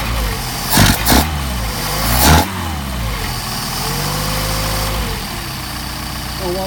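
A Mercedes 190SL engine fitted with Solex carburetors idles steadily while warming up, a close, even mechanical hum with a couple of brief louder surges early on, heard alone.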